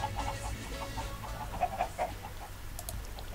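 Chickens clucking in a short burst of repeated, clipped calls with a few louder squawks, close by over a low rumbling background.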